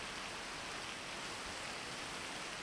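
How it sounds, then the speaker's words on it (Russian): Steady, soft hiss of rain falling continuously in a video game, even and unbroken with no voices or other sounds. "О, дождь пошел."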